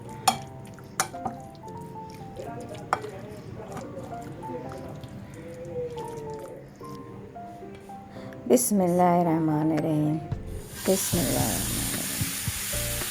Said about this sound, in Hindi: अब मैं इसको फ्राई पैन में डालूँगी ऑयल